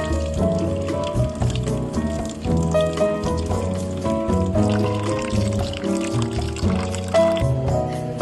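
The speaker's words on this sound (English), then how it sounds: "wash the red lentils well until the water runs clear" Red lentils being rinsed in water for a Sri Lankan dhal curry, with a steady splashing and pouring of liquid running close and continuous throughout.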